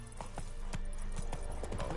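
Roach the horse gallops in The Witcher 3 video game, a quick steady clip-clop of hooves repeating over a dense game soundscape, close and fairly loud throughout.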